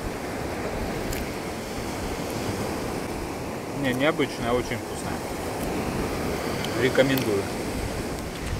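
Steady wash of sea waves on an Azov Sea beach in the evening, a constant rushing surf with wind, while someone briefly talks over it.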